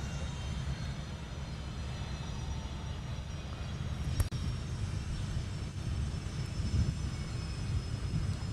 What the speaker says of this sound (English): This one's another Gulfstream 4. That's why it's so loud.